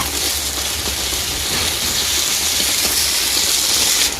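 Chopped tomatoes land in ginger spice paste frying in a pan for a thin home-style desi chicken curry, setting off a loud, steady, broadband hiss of sizzling that holds evenly throughout.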